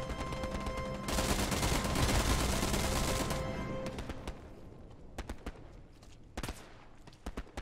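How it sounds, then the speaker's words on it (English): Gunfire in the WWII shooter Hell Let Loose, a dense burst of automatic and rifle fire followed by scattered single shots at varying distances, no voices. "There's gunfire coming in."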